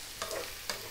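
Potatoes and bell peppers fry and get stirred in a pan over medium heat for a sardine, cabbage and potato dish, a soft steady sizzle broken by two brief scraping stirs, close and fairly quiet.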